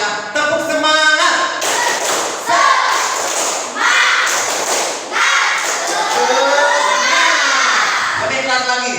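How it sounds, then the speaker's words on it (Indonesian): Children in a classroom doing a loud rhythmic 'tepuk semangat' clapping chant, claps and thumps in patterned bursts mixed with their chanting voices. "Yang keras ya, tepuk semangat."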